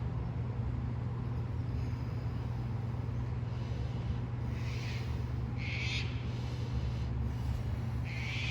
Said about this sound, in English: Sorry about the noisy birds.